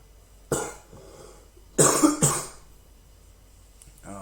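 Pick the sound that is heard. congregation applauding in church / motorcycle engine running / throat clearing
throat clearing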